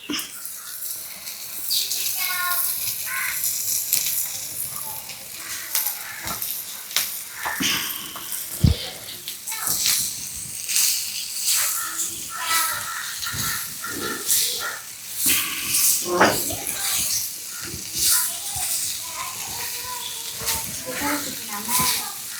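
Dough frying in a cheenachatti pan sizzles and hisses loudly and unevenly, with bursts of crackling as pieces hit the hot oil, while people talk intermittently over it.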